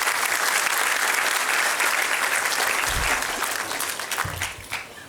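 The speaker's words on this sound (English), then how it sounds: "So a round of applause for your parents and everybody." A graduation convocation audience claps for the graduates' parents, a dense sustained applause from a large hall crowd that fades gradually toward the end.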